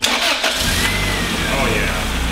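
A turbocharged Honda Civic engine with its exhaust reconnected cranks and catches, then settles into a steady, loud running rumble that continues to the end.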